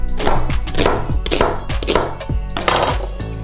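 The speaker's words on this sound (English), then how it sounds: "And then I'm just gonna rough chop" A knife rough-chopping cauliflower and onion on a cutting board, about six crisp, close chops in a steady rhythm, with no talk.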